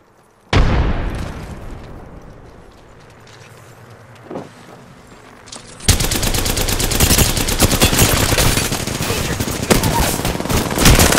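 A frag grenade blast and gunfire in a video game: a sharp, loud detonation, a quieter stretch with a small pop, then a sustained wall of rapid, dense gunfire and explosions that runs to the end.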